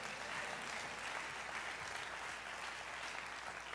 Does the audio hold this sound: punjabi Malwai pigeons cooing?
no